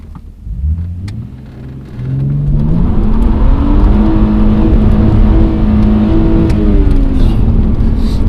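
A BMW 330ci Clubsport with a worn clutch accelerates hard from low speed. The engine rumble climbs steadily in pitch through a loud, sustained pull heard close up, with no talking.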